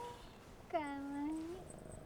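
A cat on an island gives a single drawn-out meow, close and fairly soft, rising then falling over about a second against quiet outdoor background.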